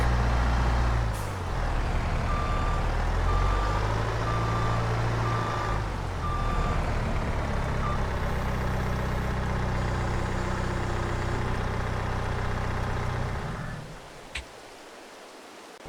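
Truck reversing to park inside in a video game, engine idling under a steady rumble with a repeating reverse beep, ending with a brief hiss as it stops.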